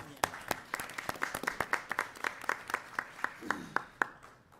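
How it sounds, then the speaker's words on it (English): A small group claps steadily for a few seconds, sharp individual claps close by, tapering off at the end; a brief voice sounds under the clapping. "Let's give him a round of applause."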